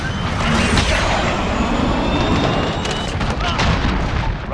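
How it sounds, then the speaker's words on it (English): A cruise missile launches and strikes in the Modern Warfare video game: a loud, sustained roaring blast with rumbling booms, and a voice briefly speaking over the noise. "Cruise missile, go for launch."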